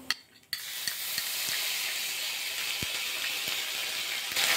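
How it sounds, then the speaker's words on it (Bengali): Ginger and black cumin seeds fry in hot oil in a pan as they are stirred, a loud steady sizzle that swells after a quiet start, with a few soft spoon taps against the pan. "ভালো করে নাড়াচাড়া করে দিলাম।"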